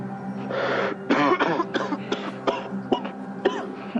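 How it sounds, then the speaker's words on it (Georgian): A series of harsh coughs in quick bursts, fairly close and loud, with brief pauses between fits and no talking. "დედა, საშინლად ახველებ."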